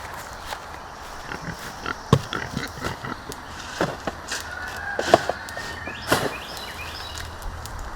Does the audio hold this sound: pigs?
yes